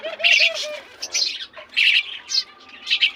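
Pet maya sparrows and kapagaw birds chirp close by in short, bright bursts of tweets and squawks, one cooing trill among them, with brief pauses between calls.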